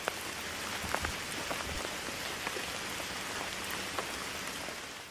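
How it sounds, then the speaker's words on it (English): Steady rain falling and pattering on a surface outdoors, a dense continuous hiss with scattered individual drop taps, fairly close and even throughout, with no talking. "it's raining right now"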